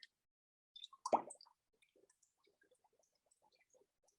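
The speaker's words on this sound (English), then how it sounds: "Can you hear those bubbles?" A heavy object sinks into water, giving a loud plop and gurgle followed by a string of small, faint bubble pops rising at an irregular pace, close by and with no voices.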